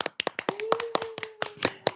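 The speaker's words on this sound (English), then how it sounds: "Claps." A brisk run of hand claps, about a dozen sharp slaps spaced unevenly over two seconds, close and fairly loud, with a faint sustained tone running underneath.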